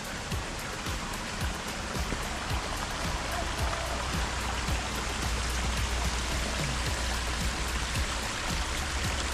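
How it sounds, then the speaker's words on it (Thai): Flowing stream water below a waterfall at a forest campground in Doi Pha Hom Pok National Park, a steady, dense rushing wash that fills the whole clip, close and continuous with no pauses. "มีเสียงน้ำไหล ก็ด้านล่างจะมีน้ำตกด้วยนะครับ"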